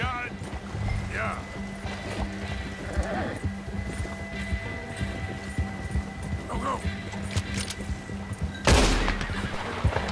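A horse whinnies amid gunfire and commotion in the open-world western game Red Dead Redemption 2, with voices talking over the scene and a loud burst near the end.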